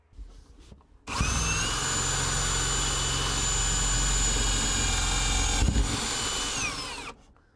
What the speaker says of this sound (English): That's where we got to drill our pilot hole